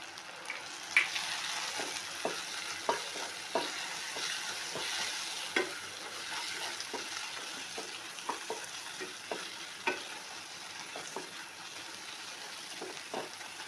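Tomatoes with chili and coriander powder are sautéed for prawn gravy, with a steady soft sizzle under repeated stirring scrapes and spoon taps that keep a loose, uneven rhythm close by.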